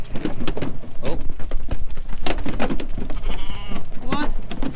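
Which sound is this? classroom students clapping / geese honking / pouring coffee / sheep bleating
sheep bleating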